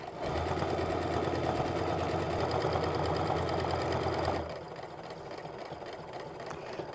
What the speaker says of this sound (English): I've set my sewing machine to sew an 1/8 of an inch stitch